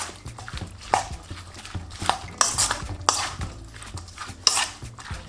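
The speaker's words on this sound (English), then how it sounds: "add all of your veggies into this bowl and some of the sauce. Give that a really good mix." Salad vegetables tossed with sauce in a bowl, giving repeated close clinks and wet scraping strokes of a utensil against the bowl in an irregular rhythm, with no talking.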